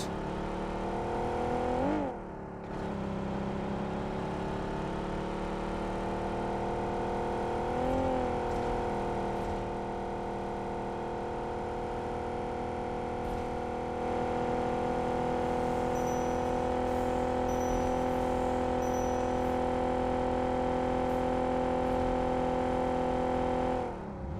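A car engine driving in the battle royale game PUBG Mobile hums steadily for the whole stretch, with a few rising revs as it accelerates. It is moderately loud and there is no talk over it.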